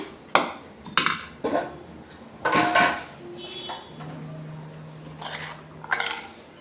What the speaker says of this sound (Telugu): కూర అయితే ఒక బౌల్లోకి అయితే ట్రాన్స్ఫర్ చేసేయడమే